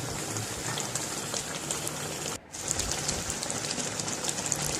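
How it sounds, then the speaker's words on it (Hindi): Sugar syrup with mango pieces simmering over a flame, giving a steady close bubbling hiss with a brief dip partway through. "हमारी चाशनी अच्छे से पक रही है"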